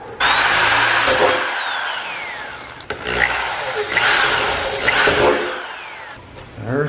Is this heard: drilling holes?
yes